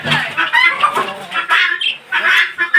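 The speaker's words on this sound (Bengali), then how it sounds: "এই হলো আমার মুরগি" A local desi hen on a farm clucks in a run of close, loud bursts with short pauses between them.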